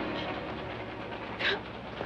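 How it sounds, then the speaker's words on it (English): A moving train in the Old West, a quiet continuous rumble and rattle of the cars rolling along, with a brief hiss-like burst near the end and no talking. "The first thing you can do is stop this train. I can't operate while it's moving."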